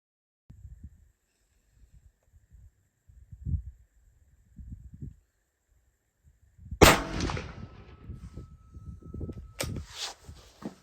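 Two sharp, loud 7mm PRC rifle shots fired with 180 grain Berger Hybrid Target loads, the first followed by a long ringing decay and the second by a short echo, after quiet shuffling and handling noises.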